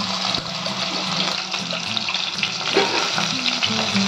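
Chicken pieces fry in hot mustard oil for a Kashmiri chicken dish, giving a steady close crackling sizzle that holds throughout with small bursts of spatter and no talking.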